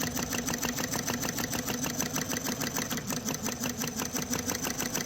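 A small engine chugs steadily nearby, its rapid rhythmic putter rising and falling slightly in pace, with no voices.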